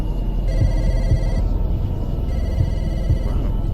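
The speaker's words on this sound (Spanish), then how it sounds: "El teléfono." A telephone rings in two bursts of repeated trilling bells over an ambient, windy backdrop in an album intro, with steady low rumble beneath.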